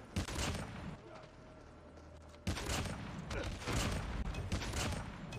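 Gunfire in Call of Duty Mobile with the Arctic 50 sniper rifle, a few sharp shots and bursts among game action sounds, with a strong report about halfway through.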